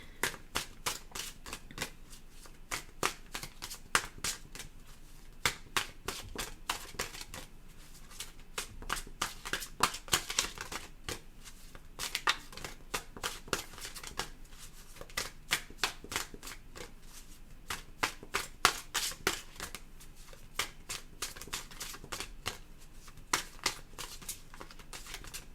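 Tarot cards being shuffled by hand in repeated quick bursts of riffling and flicking, close and fairly quiet, continuing rhythmically for around twenty-five seconds with brief pauses between rounds.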